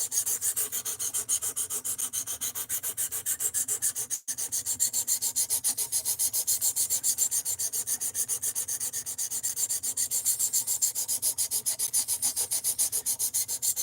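An Ozark Trail D2 steel knife blade strokes steadily on a sharpener, producing a continuous stream of fast, even scraping rasps with one brief gap, close and uniform throughout.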